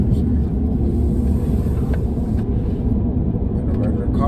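Tesla Cybertruck on a test drive, a steady low rumble of road and drivetrain noise rolling through a curve, continuous and even, with people talking over it inside the cabin.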